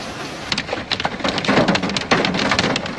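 Heavy rain lashes down in a desert hailstorm, a dense, steady roar of drops with sharper bursts of impacts on surfaces, loud and close throughout.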